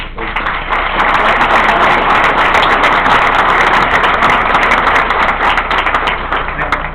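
Loud, dense applause from the audience at a Miami Beach mayoral swearing-in, honoring the outgoing city commissioners, a steady wash of many hands clapping that holds for about seven seconds.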